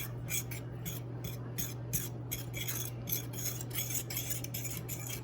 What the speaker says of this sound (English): next we're going to mix up our flour and breadcrumbs together. Just kind of whisk it together.